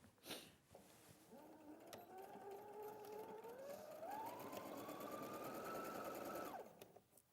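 A sewing machine stitches a trouser crotch seam in one continuous run, its motor whine rising steadily in pitch as it speeds up, then cutting off cleanly; close and fairly quiet.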